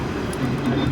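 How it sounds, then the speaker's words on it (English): A streetcar rolling down St. Charles Avenue in New Orleans on a cold Mardi Gras morning, giving a faint, brief low rumble of wheels on rails. "no floats, no parades this year, just a streetcar"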